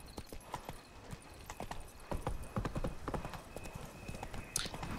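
Roach the horse gallops in The Witcher 3, hooves clip-clopping in a quick steady rhythm at close range, with a brief whinny near the end and no speech over it.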